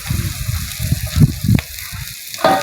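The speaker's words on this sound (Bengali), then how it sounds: "পেঁয়াজ ভেজে নিচ্ছে" Onions frying in oil for a village Bengali meal of lentils and mashed potato, with a loud, close sizzle broken by stirring scrapes and bursts of spattering.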